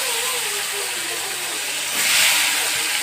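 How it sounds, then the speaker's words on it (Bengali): Silver carp pieces fry crisply in a pan, giving a steady, dense sizzle and hiss that swells louder near the end. "এখন এই মাছগুলো ভেজে নেবো"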